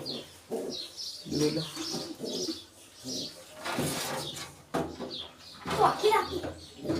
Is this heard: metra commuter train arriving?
no